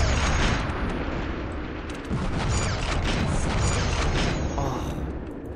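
A weapon fires continuously in the video game Shogo, a dense, loud, roaring blast of mechanical and explosive noise that holds steady for several seconds with no pause.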